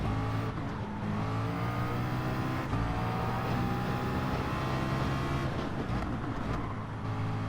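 A race car engine in Gran Turismo 7 drones steadily through corners, its pitch rising and dipping as the throttle is applied and eased, loud and continuous throughout with no talking.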